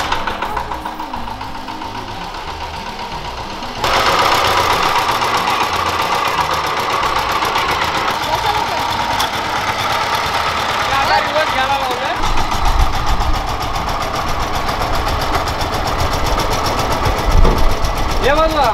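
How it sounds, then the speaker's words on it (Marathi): A tractor engine starts up and runs at a steady idle on a village farm, a continuous mechanical rumble with rattling that grows louder after the first few seconds, with people talking over it. "चालू आहे ट्रॅक्टर."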